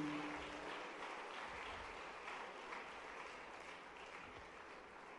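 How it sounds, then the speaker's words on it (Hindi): Sustained applause from an audience at a National Youth Day event in Bhopal, a steady wash of many hands clapping, faint and distant, holding evenly throughout. "जोरदार तालियां लगातार जारी रहें।"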